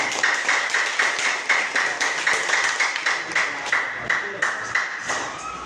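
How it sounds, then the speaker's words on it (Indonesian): A grade 12 class claps together on cue in a classroom, a crisp, fairly steady run of hand claps with a light rhythmic pulse that lasts several seconds, with some voices mixed in. "Nah, tepuk tangan."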